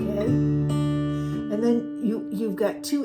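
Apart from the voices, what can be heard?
No everyday noise stands out behind the speech.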